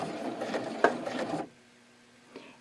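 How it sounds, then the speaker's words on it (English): A sewing machine stitches fabric, working a few stitches in reverse before sewing forward again. A steady mechanical whirring runs close and clear for about a second and a half, then stops abruptly, leaving near silence. "go 3 steps backwards, hold the reverse, go 3 steps, and then you're going to sew forward again"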